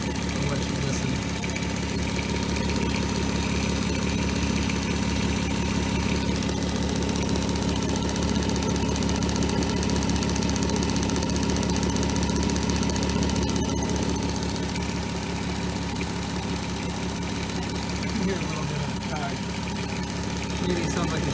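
A 2003 Volkswagen Eurovan engine idles steadily and close up, with a continuous rhythmic mechanical rattle and rubbing from a worn timing chain or guide running under the even engine hum throughout.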